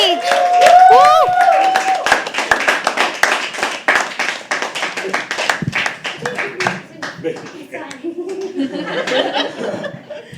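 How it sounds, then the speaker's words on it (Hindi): An audience at a live poetry open mic claps for the next performer coming on stage, with a burst of clapping and chuckles followed by scattered claps and a speaking voice over the room noise. "Can we please have it for round of applause?"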